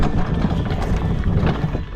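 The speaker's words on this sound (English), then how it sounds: "that's the horse I have to ride." Horse clip-clop and movement sounds come close and loud with steady rustling and thudding over a noisy background, and no talking.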